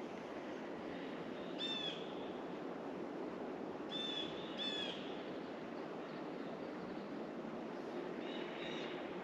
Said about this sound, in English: Blue jays, there's woodpeckers.